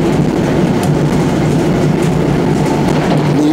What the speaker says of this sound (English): I'm on an NJ Transit train